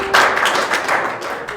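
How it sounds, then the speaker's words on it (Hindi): Audience applause at a Hindi poetry gathering, a short burst of dense clapping from a nearby crowd that swells quickly and then thins out over a second and a half, with no speech. "बस आप मुझे ताली बजाकर आशीर्वाद दे देना"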